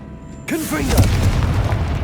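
Confringo blasting spell explosion in the Hogwarts Legacy video game: a sudden loud boom hits after a short quiet lead-in, followed by crackling, rumbling debris that sustains for over a second with a voice underneath.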